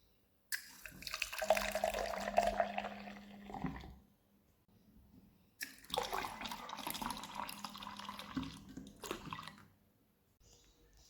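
Water runs through a keezer beer tap line in two separate bursts, each a few seconds long, with a short quiet gap between them. It has a steady hissing, splashing sound at close range.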